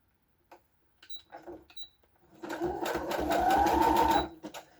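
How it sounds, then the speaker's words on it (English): A sewing machine doing a zigzag stitch starts with a few short bursts, then runs steadily in a fast rattling whir for a couple of seconds before stopping. "Let's get the sewing machine pulled up."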